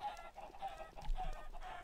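Chickens in a Minecraft chicken farm cluck repeatedly in short, steady bursts, several birds overlapping at close range with no talking.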